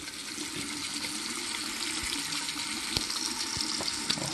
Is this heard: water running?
yes